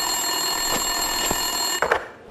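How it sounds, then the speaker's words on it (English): A telephone rings at a desk in the video game Max Payne 2, a steady electronic trill running for about two seconds over a constant hum, then stopping abruptly. "Winterson's phone was ringing."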